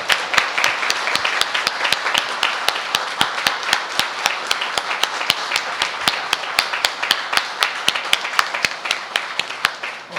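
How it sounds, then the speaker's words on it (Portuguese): A standing ovation in a municipal council chamber during a solemn session honouring a late doctor: loud, sustained clapping from the whole room, settling into a steady rhythmic beat throughout. "que de pé sigam em aplausos pela memória do nosso inesquecível e homenageado Dr. Jorge Peregrino."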